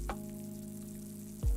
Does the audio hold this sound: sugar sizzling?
yes